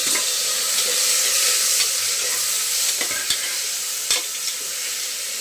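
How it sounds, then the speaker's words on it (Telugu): Tomatoes for a pea masala curry made with coconut milk fry in a pan, giving a steady, loud sizzle with a few stirring scrapes near the end. "టమోటాలు బాగా ఫ్రై అయిపోవాలి"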